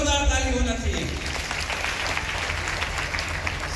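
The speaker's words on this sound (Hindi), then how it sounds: "क्या बात है, जोरदार ताली होना चाहिए।" An audience at a product promotion meeting breaks into strong applause, a dense clapping roar that follows a voice at the start and carries on steadily.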